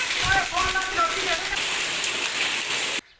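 Heavy rain pours down in a dense, steady hiss, with a voice talking briefly over it at the start before the sound cuts off.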